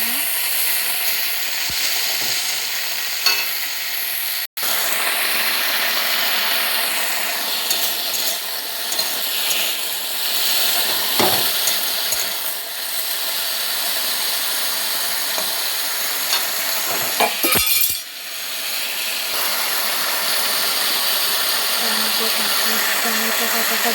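Cut potatoes frying in hot oil with dried chili and cumin, giving a loud, continuous, close sizzle that breaks off once for a moment.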